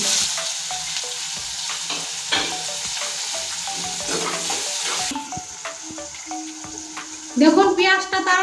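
Chopped onions tossed into hot oil over whole garlic and tempering spices give a loud, continuous sizzle with stirring clatter, close by, with a short voice-like sound near the end.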